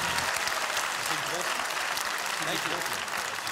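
A live television studio audience applauds in steady, dense clapping that fills the whole stretch at an even level, with voices faintly mixed into the crowd noise.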